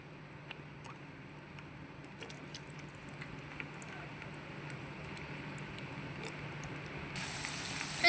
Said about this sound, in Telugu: ఆయిల్ హీట్ అయింది ఇప్పుడు ఆనియన్స్ క్యాప్సికమ్ లైట్గా వేయించుకుందాం